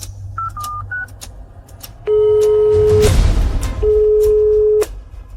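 A telephone call to a number that cannot be reached: a few short dialing beeps, then two long, loud, steady call tones separated by a brief gap.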